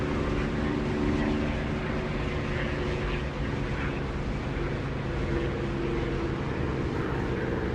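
Steady, loud engine drone of an aircraft landing in a flight simulator game such as DCS or War Thunder, flown on rudder only with no ailerons and coming in too fast, a constant broadband roar throughout.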